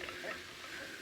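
Ground meat, onion and pepper frying together in a pan for chili corn soup, a faint steady sizzle with no talking.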